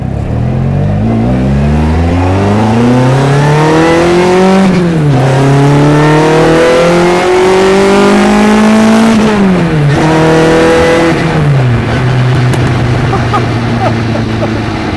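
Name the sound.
Mini 1380cc twin cam 150 bhp engine revving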